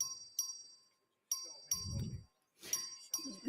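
A clerk rings the voting bell in the Texas House chamber: a series of clear, ringing electronic dings in irregular bursts, fairly quiet, with a brief low murmur in between.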